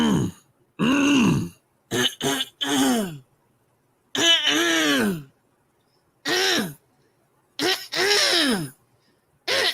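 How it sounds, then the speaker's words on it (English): Several harsh throat-clearing rasps and groaning hems in irregular bursts separated by silence, close and loud. "Now, start by clearing your throat."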